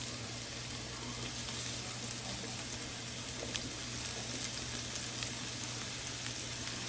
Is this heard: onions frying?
yes